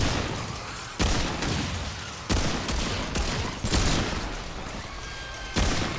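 Rifle fire in the video game Remnant II: several loud, sharp shots spaced about a second apart, each with a broadband crack and a short decay, over a steady game ambience.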